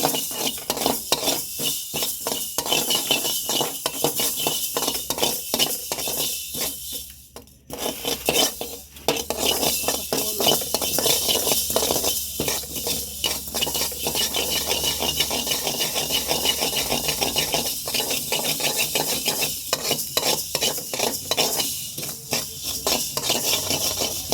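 Mustard seeds sizzle in a kadai while a spoon repeatedly scrapes and stirs against the metal, loud and close. The rhythmic clatter runs almost without a break, and no voices are heard.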